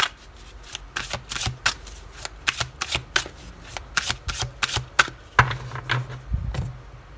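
Tarot cards are shuffled and laid out by hand in a quiet room, giving a run of crisp, rapid flicks and soft slaps close to the listener, alone without talk.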